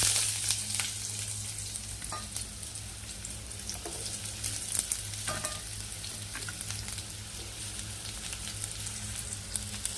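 Onion pieces fry in hot oil with fenugreek seeds for an egg curry, a steady close broadband sizzle holding throughout with a few sharper crackles and pops and no talking.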